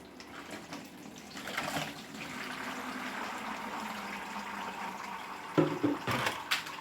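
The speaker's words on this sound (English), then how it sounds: "I just put that over the strainer, and you can pour it right into that and just let it filter through." Maple sap being poured through a cloth napkin laid over a spaghetti strainer, a soft continuous trickle and splash that swells and holds steady, with a few brief clinks near the end, heard alone.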